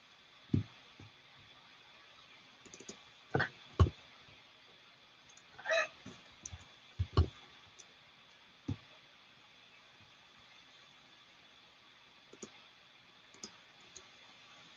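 Computer mouse clicks while configuring Ansible AWX notifications in a web interface, heard as scattered, irregular single and double clicks, close and crisp over a quiet background with no talking.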